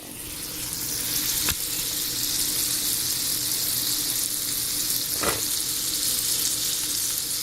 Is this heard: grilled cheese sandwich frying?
yes